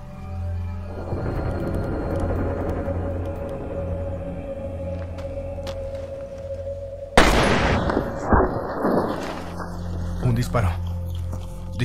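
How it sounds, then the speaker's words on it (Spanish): A single sharp, loud crack cuts in suddenly over a low ambient rumble, followed by a few scattered bangs and noises. "Disparo."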